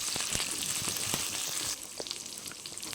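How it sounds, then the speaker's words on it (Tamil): Eggplant, drumstick and beans sauté in hot oil for a sambar, a close, busy sizzle with scattered crackles and stirring clicks that drops quieter partway through. "நல்லா வதக்குறேன் ஏன்னா கத்திக்கெல்லாம் கொஞ்சம் எண்ணெயிலே தான் வதக்கணும்"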